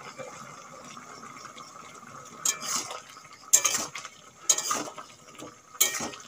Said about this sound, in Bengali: লাউ একটু ঘুটে নেব, বেশিক্ষণ একটু নাড়াচাড়া করে নেব।